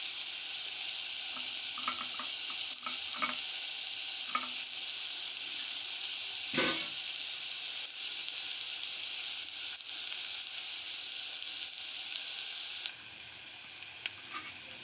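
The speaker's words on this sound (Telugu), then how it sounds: "ఇలా మనం స్పూన్తో ఇలా అనాలండి. చాలా మంచిగా వేగిపోతుంది." Carrot pieces fry in a pan with a steady hiss, while a spoon stirs and scrapes in scattered strokes; one sharper clatter of the spoon comes midway, and the sizzle drops quieter near the end.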